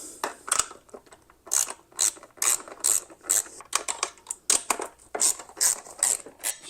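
Ratchet wrench clicking in quick repeated bursts while backing out seat bolts on a 1979 Falcon GT motorcycle, close and fairly loud with short pauses between strokes.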